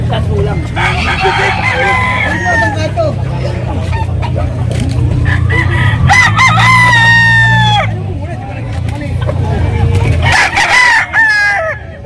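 Roosters crow repeatedly amid a busy crowd of clucking fowl, several calls overlapping, with people chattering in the background, at a poultry and pet market in Bocaue, Philippines.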